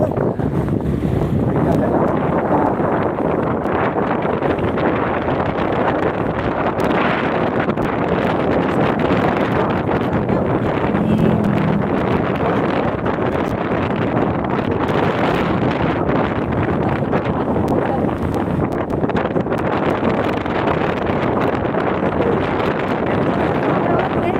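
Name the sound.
wind noise while riding a motorbike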